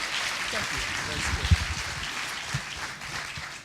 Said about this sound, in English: ask for an applause